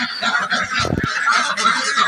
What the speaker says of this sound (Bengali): আজকে আমি আপনাদের মাঝে নিয়ে এসেছি অরিজিনাল ফ্রান্সের পিকিং টার্কি হাঁসের ভিডিও